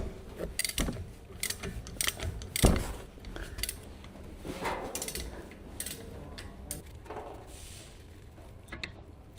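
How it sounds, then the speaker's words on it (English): Ratchet and 17mm short socket on an extendable handle working loose the two front brake caliper mounting bolts of a 2013-2019 Ford Explorer, giving scattered metallic clicks and clunks close by with quiet gaps between. "Using the large 17mm short socket with the extendable ratchet, remove the 2 caliper mounting bolts."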